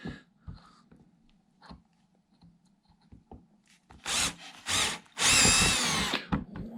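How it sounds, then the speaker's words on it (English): A power drill with a 4mm bit bores through wood in a few short bursts, whining and grinding loudly, with quieter taps and handling noises between. "we can now drill through all the way with a 4mm drill"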